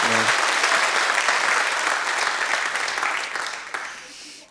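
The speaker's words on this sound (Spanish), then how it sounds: "Otro aplauso al Señor" A church congregation applauds during a Spanish-language service. A voice is briefly heard at the start, then thick, close clapping continues before fading away.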